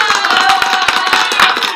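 Sharp, dense applause from a clapping group, quick overlapping claps crackling steadily at close range for a couple of seconds.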